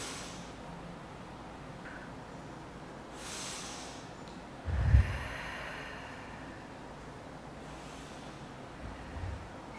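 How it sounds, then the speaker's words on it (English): Deep breathing during a guided heart meditation: slow, soft inhales and exhales, with one louder breath in the middle, faint and alone in a quiet room. "Inhale love and exhale fear."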